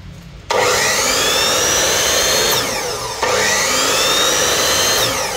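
A Makita folding power saw with a 260 mm carbide-tipped blade runs at a steady high whine, briefly dipping in pitch midway as if cutting, with no talk over it.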